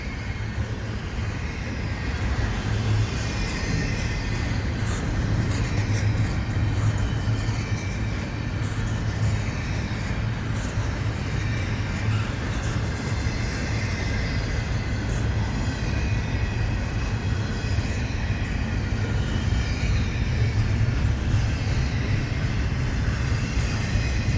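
A CP mixed freight train with single-stacked container cars rolls past Dorval station in winter, a continuous loud rumble and clatter of wheels on rail that holds steady and close for the whole stretch.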